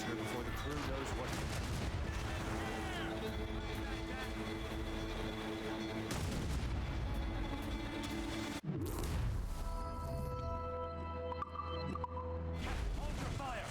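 Ship cannon fire in Assassin's Creed Rogue: booming volleys and crashing impacts under a dense battle soundscape, then a sudden cut to deeper rumbling with scattered blasts, loud throughout.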